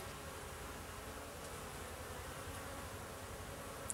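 Honeybees buzz steadily around an apiary hive on a short flight day, a soft, continuous drone of many insects with no talk.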